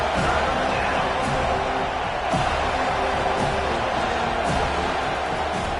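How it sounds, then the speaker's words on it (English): A stadium crowd at an MSU vs Florida State football game roars steadily in support of the defense on third down, a loud, sustained wash of cheering with occasional thuds. "Decibels rising as the crowd gets behind this defense on third down."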